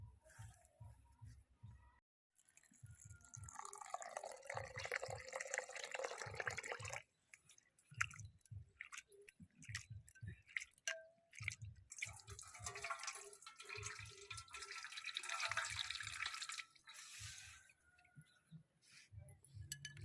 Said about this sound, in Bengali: এবার চিড়াটা পরিষ্কার জলে ভালো করে ধুয়ে নেব।